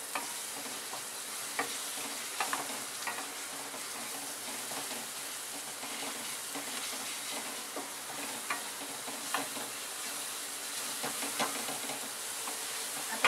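Ginger garlic paste frying in a pan and being stirred, giving a steady close sizzle with scattered scraping clicks of the spoon running throughout, no voices.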